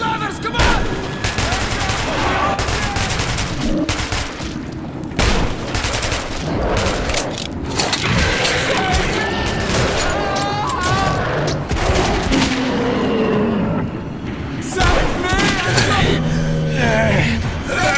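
Chaotic gunfire during a Metro 2033 Redux cutscene: repeated bursts and single shots crackle for many seconds, mixed with shouting voices and tense gasps.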